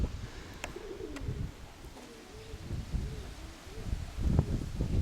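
Pigeons coo in soft repeated rolling calls close by in a loft, with faint rustling and a few brief knocks, and a fuller burst of cooing near the end.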